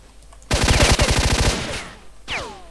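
Automatic weapon fire in S.T.A.L.K.E.R.: Shadow of Chernobyl, a loud rapid burst of about a dozen evenly spaced shots over a second, then a ringing tail and a brief whooshing impact.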